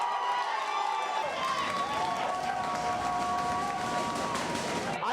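A large crowd roars and cheers as the clock hits zero, a dense sustained wall of shouting and applause with a rising tone swelling through it and voices mixed in.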